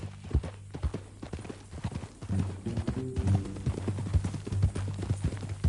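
Horse hooves clip-clop steadily at close range in the Red Dead Redemption 2 video game, a continuous walking rhythm with low rumbling undertones and a faint tonal hum beneath.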